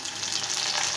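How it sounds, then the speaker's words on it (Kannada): Onions frying in a pan, a dense, continuous sizzle that stays loud and even throughout with no voices. "ನೋಡಿ, ಈಗ ಈರುಳ್ಳಿ ಹಾಕಿದ್ಮೇಲೆ ಈ ಥರ ಈರುಳ್ಳಿ ಒಂದು 2 ನಿಮಿಷ ಫ್ರೈ ಆಗಲೇದು."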